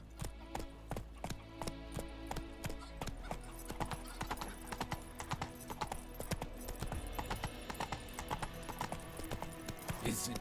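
Horse hooves gallop in fast, even beats in The Witcher 3, loud and close over continuous game music, with brief voices mixed in.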